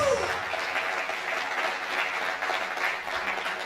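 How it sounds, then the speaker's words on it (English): An audience applauds a senator and agriculture minister during a working visit to an agricultural research institute in Ibadan, with dense, steady clapping from a crowd, moderately loud and sustained without a break. "please another warm round of applause for the Honorable Minister of Agriculture, State, Agriculture and Food Security, Senator Dr. Aliyu Sabi Abdullahi"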